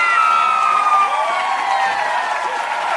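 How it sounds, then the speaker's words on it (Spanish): An audience claps and cheers loudly on a comedy show, with a dense, sustained wash of applause and shrill whoops carrying through the whole moment. "Fuerte las palmas para Cristóbal directamente desde España."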